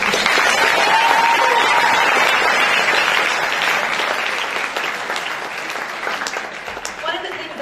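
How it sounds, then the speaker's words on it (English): Steady, full applause from an audience at a school senior walk and Jag Excellence awards event, loud at first and gradually thinning out over several seconds with no talk over it. "let's have one more round of applause for all of our Jag Excellence."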